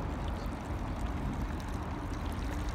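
Water runs steadily from a tap at a handwashing station in Japan, a continuous close rushing stream with no pauses and no talk.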